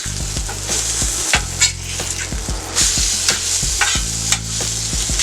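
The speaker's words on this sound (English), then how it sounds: "I'm gonna go ahead and flip over the sausage here" Sausage sizzles loudly on a slim steel flattop griddle while a spatula scrapes and taps against the metal again and again as the links are flipped.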